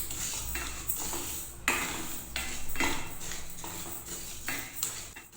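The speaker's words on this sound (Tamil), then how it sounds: "நம்ம முதல்ல பாசிப்பருப்பை வறுத்துக்கலாம்" Moong dal dry-roasting in a heavy pan over medium heat, with repeated scraping and metallic clinks of a spoon against the pan in an uneven rhythm, close and fairly quiet, no talking.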